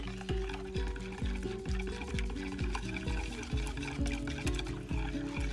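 Soap batter tinted with mica being whisked by hand in a bowl, a regular swishing rhythm of about two strokes per second, close and moderately loud, with no voices.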